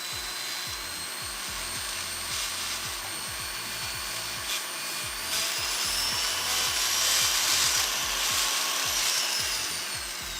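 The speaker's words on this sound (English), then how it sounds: "Really like it for any sort of flex shaft polishing." A flex shaft fitted with a polishing wheel and polish compound works over a gold emerald ring being resized, giving a steady close-up whirring and rubbing with rhythmic friction strokes throughout.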